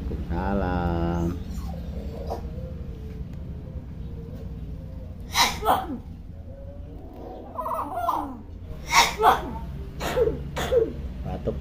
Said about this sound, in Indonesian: Batuk terus, Rajo.